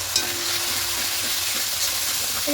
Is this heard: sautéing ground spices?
yes